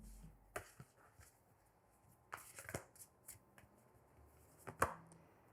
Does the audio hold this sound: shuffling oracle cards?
yes